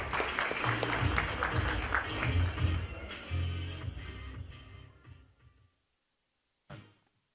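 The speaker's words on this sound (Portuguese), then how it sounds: "Uma salva de palmas também para o Rafa." An audience at a Brazilian innovation and regulation panel applauds a guest, a few seconds of moderate clapping that fades out into silence, with one faint sound after the pause.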